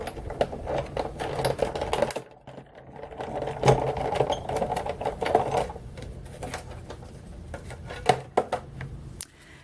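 A die cutting machine feeds cardstock through its rollers to cut a small bow-topped present layer, giving a steady mechanical whirring and clicking hum that runs for most of the stretch with a short pause partway.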